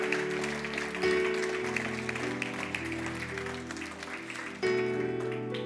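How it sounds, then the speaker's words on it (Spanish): A church congregation applauds steadily over organ-like music, the clapping thick and sustained, swelling again near the end. "Dele fuerte el aplauso a Dios."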